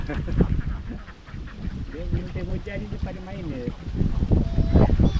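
Ducks quack in several short bursts in the middle, close by, mixed with outdoor noise and people talking.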